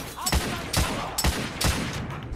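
Shotgun-wielding enemies fire in a video game, The Order: 1886, with four heavy booming blasts spaced roughly half a second apart, loud and close.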